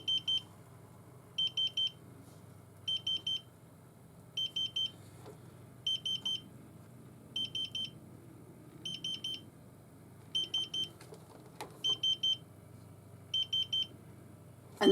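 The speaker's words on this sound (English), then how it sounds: "It does have an alarm on it if it's getting overheated." A laminator's overheating alarm beeps in regular bursts of quick high-pitched chirps, about ten groups repeating every second and a half over a low background hum.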